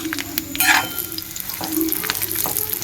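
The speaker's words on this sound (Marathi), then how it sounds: "खोबरं, लसूण छान असं परतून घेते, तर हे सगळं एकत्र असं परतणार आहे" Coconut and garlic frying in oil in a pan, a steady close sizzle with stirring scrapes and crackles.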